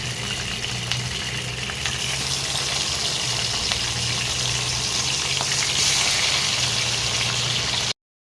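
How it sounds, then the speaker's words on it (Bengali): Fish frying in hot oil in a home kitchen, a continuous loud sizzle and crackle held close and steady for about eight seconds before cutting off abruptly, with a low hum beneath. "এইভাবে আমি প্রতিটা মাছকে ভেজে নেব।"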